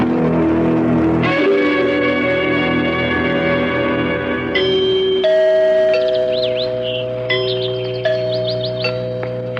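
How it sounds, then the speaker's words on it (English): Bright chiming bell tones ring out over a sustained musical background, with several struck notes and higher tinkling chimes later on. "Did you hear the chimes? It sounds like the bell in our tower."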